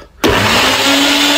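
Household blender suddenly switching on after a brief quiet moment, then running loud and steady with a constant motor whine and whirring roar.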